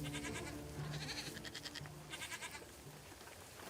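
A herd of goats on a farm producing Sainte-Maure-de-Touraine goat cheese bleats repeatedly, several overlapping calls rising and falling at moderate distance, with no talk.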